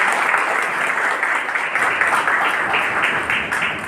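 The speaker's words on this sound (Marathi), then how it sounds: "एकदा महेश लातूरकरांसाठी जोरदार टाळ्या वाजवा." A crowd gives loud, sustained applause for Mahesh Laturkar, dense and continuous for several seconds at close range.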